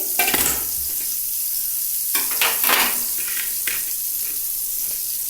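Bread slices frying in hot butter in a pan, a steady close sizzle with occasional stirring and scraping sounds, no voices.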